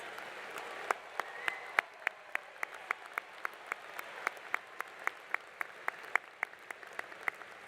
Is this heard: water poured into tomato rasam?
no